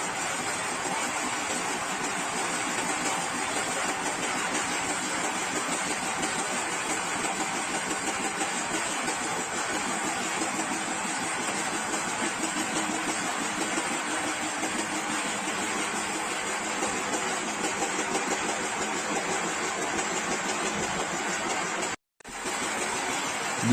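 Machinery runs in the engine room of a wooden boat, a steady unbroken engine drone and hum that holds level throughout, with one brief dropout near the end.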